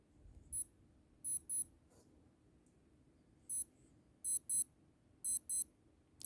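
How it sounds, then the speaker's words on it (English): Casio W-250 Marlin digital watch (module 108) emitting quiet, high double beeps, repeated in short pairs separated by pauses over a faint background hum. "the low volume of the beeping sound, which you can able to test in both watches by pushing one or two buttons"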